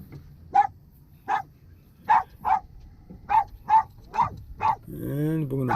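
A dog on a fishing boat barks in short, sharp bursts, about ten barks spaced unevenly, fairly close, with a voice starting to talk at the very end.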